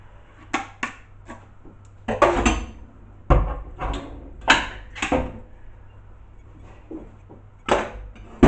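A tin of fruit holding carrot, peach, cherries and pineapple is opened close by, with scattered metallic clanks, clicks and short scrapes separated by brief pauses.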